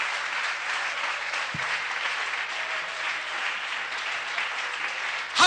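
A church congregation applauding and cheering the Lord during a French-language worship service, a broad steady wash of clapping from many hands that carries on loudly throughout.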